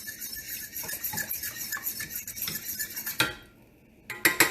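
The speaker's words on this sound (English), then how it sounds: "drop the cornstarch in here, and I'm whisking it into the mixture" A whisk beats cornstarch into a sauce mixture in a bowl, a steady close rapid scraping and clinking that stops briefly and then resumes with a few sharper taps.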